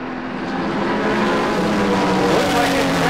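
A Porsche 935 and other race cars roar past on a track during the Rolex Monterey Motorsports Reunion, a loud, steady engine howl with a rising pitch sweep as a car passes nearby.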